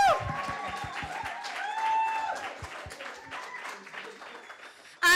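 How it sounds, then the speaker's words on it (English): A small audience applauds at an evening empowerment event. A few sharp, close claps come first, then scattered clapping carries on under murmuring voices and a brief cheer. "when I say we are to give her a big round of applause, please just let us just stand and show her our appreciation."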